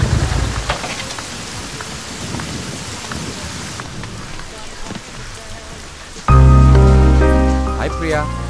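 Steady rain hisses at moderate level for several seconds with a low rumble underneath, then gives way abruptly to loud music near the end.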